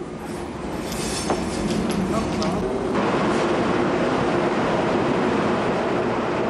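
A KTX high-speed train with twenty coaches runs past in a steady, loud rumble with faint high squeals and rattling, a narrator's voice sitting over the continuous roar.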